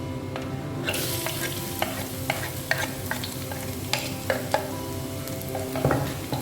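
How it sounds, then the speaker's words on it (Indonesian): Garlic sizzles in hot oil in a pan, with a steady loud crackle throughout and scattered clicks and scrapes from a spatula stirring close by. "Ini minyaknya sudah panas, saya akan tumis dulu bawang putihnya ini ya."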